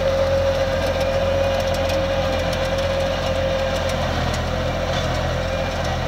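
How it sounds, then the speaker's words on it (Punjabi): A New Holland 3630 50 hp tractor working a super seeder in a field, its engine a constant close drone with a steady tonal hum and no talking over it. "ਇਹ ਹੁਣ 50 HP ਦਾ ਟਰੈਕਟਰ ਆ ਤੇ ਕਿੱਡਾ ਸੋਹਣਾ ਸਫਾਈ ਆ ਰਹੀ ਪਿੱਛੇ ਵੇ"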